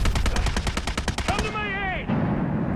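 In the shooter game Delta Force, a machine gun fires a rapid, loud automatic burst of about a dozen evenly spaced shots, followed by a brief voice and a tonal in-game sound.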